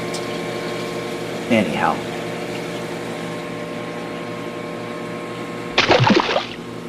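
A strong Iwaki 55 pump on a 400-gallon bowfront aquarium hums steadily with a constant tonal drone. Someone briefly speaks over it twice.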